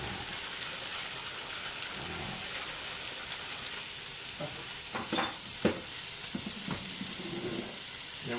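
Turmeric fries in hot oil with a steady, dense sizzle and occasional sharper pops and scraping stirs toward the end, close and continuous throughout.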